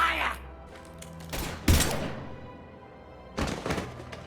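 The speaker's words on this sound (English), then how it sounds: "Now open fire!" Gunfire in the video game Mass Effect 3: a couple of heavy bursts of shots and thumping impacts, loud and close, spaced across a few seconds with game ambience between.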